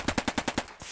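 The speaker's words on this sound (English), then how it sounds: "Zoid was just sat in that bush the entire time with a Sten gun" A Sten submachine gun fires in Post Scriptum, a WWII shooter, giving six rapid evenly spaced shots in a short burst that stops abruptly, loud and close.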